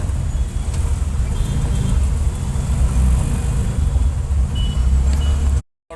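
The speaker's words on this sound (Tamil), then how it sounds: "முதல் நாளுங்கிறதுனால டிராஃபிக் பாருங்கள் எந்த அளவுக்கு இருக்குது." City traffic around a vegetable load auto rickshaw, a dense continuous rumble of engines and passing vehicles close by, loud throughout before a brief cutout near the end.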